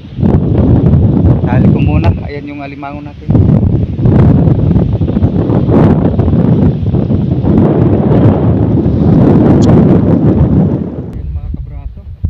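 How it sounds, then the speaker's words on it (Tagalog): Strong wind at sea aboard a small boat buffets the microphone in a loud, continuous roar, with a voice speaking briefly through it near the start and end. "Napakalakas na ng hangin mga kabraso."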